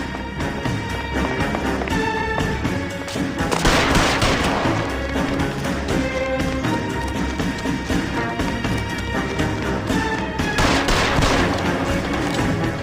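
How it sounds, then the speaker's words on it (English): Gunfire in the L.A. Noire mission Marriage Made in Heaven, a dense sustained fusillade of repeated shots with bursts and booms over a loud continuous game soundtrack, no speech during it. "Shoot him. Shoot him, for God's sake!"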